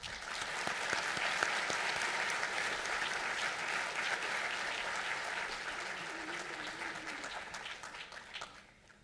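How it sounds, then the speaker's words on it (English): Audience at a medical school white coat ceremony applauds the keynote speaker, a sustained wash of many hands clapping that holds steady and then tapers off at the end. "Please welcome her with a big round of applause."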